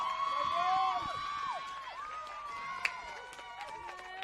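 Cheering and shouting from a group of players on the bench at a women's NPL Victoria football match, Preston Lions versus Essendon Royals, as a substitute comes on, steady and fairly loud with whistle-like calls over crowd noise.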